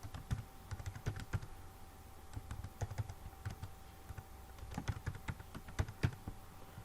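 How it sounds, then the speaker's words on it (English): Fingers tap an email address out on a computer keyboard in a steady, uneven patter of crisp keystrokes, fairly close and alone with no voices. "then type your email ID again"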